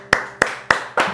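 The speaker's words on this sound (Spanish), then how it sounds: "Un aplauso por eso." Four sharp, evenly spaced claps ring out close and fairly loud in a television talk-show studio, about three per second, with no voices over them.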